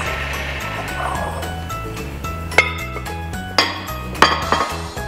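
Dry chocolate cake ingredients are mixed in a bowl, with utensil clinks and sharp scraping knocks against the bowl growing louder toward the end over a steady low background hum.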